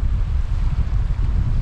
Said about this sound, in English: the wind really kicked up